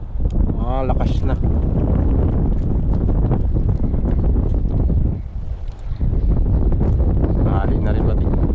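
Strong wind buffeting a microphone on a small fishing boat at sea, a loud continuous roar with gusts, briefly dropping near the middle, while someone talks over it.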